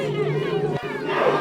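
An enraged crowd of many voices shouts and howls together in a dense, chaotic roar, one voice rising above the rest at the loudest moments.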